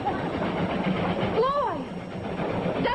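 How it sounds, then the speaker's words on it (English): A train runs along the track with a steady rumbling roll beneath voices, and a brief rising-then-falling whistle-like tone cuts through midway. "the train goes where the track goes"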